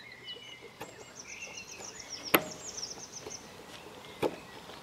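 Birds chirping and singing outdoors in a quiet garden, thin high calls and short trills at moderate distance, mixed with a few soft clicks and taps close by.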